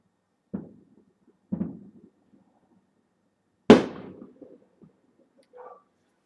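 Three sharp New Year's Eve firecracker bangs from outdoors, spaced a second or two apart, the last the loudest with a brief echoing tail, then faint rumbles.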